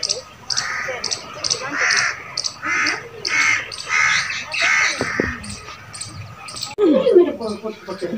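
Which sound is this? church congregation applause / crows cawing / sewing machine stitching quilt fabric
crows cawing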